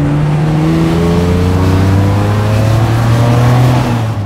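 Lamborghini LM002 truck with a 48-valve V12 and five-speed dogleg manual, its engine droning and climbing steadily in pitch for several seconds, loud and continuous, with no voices.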